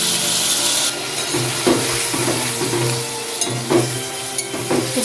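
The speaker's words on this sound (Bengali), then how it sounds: "ঝিঙে আলুর সাথে সর্ষে বাটাটা কিছুক্ষণ নাড়াচাড়া করে নিচ্ছি।" Ridge gourd and potato stirred with black mustard and green chilli paste in a pan, a steady scraping and rubbing of the spatula with a soft frying sizzle underneath and occasional knocks against the pan.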